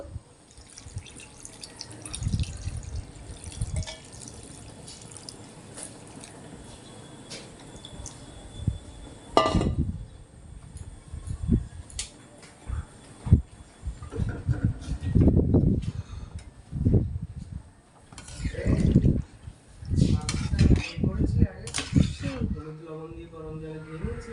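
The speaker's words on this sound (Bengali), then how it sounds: "পরিমাণ মতো এবার জল অ্যাড করবো" Water poured into a pot of fish-head curry with Malabar spinach and potato, a series of splashing, gurgling pours in irregular bursts with metallic clinks, fairly close.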